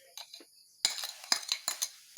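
Seasoning and MSG being mixed with utensils during grill preparation, a quiet run of scattered metallic clinks and scrapes in a short irregular rhythm, close up.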